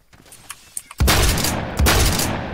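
Gunfire in the Roblox shooter Phantom Forces: a few faint distant shots, then two loud close bursts of rapid fire, the second following the first after less than a second.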